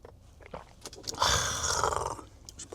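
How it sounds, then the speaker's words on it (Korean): Someone takes a bite of a Burger King burger close to the mic, with a crunchy bite followed by several seconds of moist, rhythmic chewing. "이번에는 버거킹에 한 입 먹어보겠습니다."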